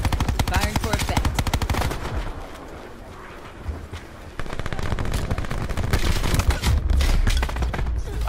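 Automatic machine gun fire in Call of Duty Black Ops 4 team deathmatch, rapid loud bursts rattling out, a brief lull in the middle, then heavy firing resumes with other battle noise.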